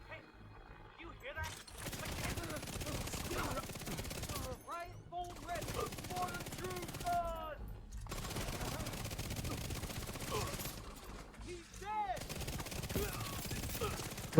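The Oxpecker exotic SMG in The Division 2 rattles off rapid bursts of automatic gunfire, broken by brief pauses, with someone talking throughout.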